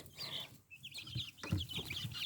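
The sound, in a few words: chicks and guinea fowl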